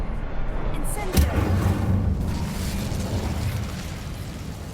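A fire spell is cast in the Hogwarts Legacy video game: one sudden bright whoosh-burst, followed by a low rumbling flare that fades over a few seconds beneath steady game ambience.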